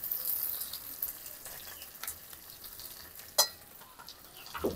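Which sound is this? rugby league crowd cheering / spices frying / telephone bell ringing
spices frying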